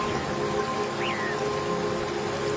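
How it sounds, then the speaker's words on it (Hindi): Heavy rain falls in a dense, steady hiss of drops on surfaces, loud and unbroken throughout, with a brief faint bird-like chirp in the middle. "पता नहीं ये बारिश कब रुकेगी"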